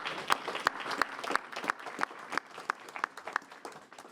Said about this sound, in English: Let's give our sponsors a big round of applause as well.